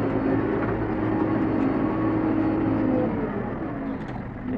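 A New Holland B95B backhoe loader engine drones loudly and steadily under load while climbing a ramp at a land-cutting site, a close, continuous diesel roar that eases slightly near the end.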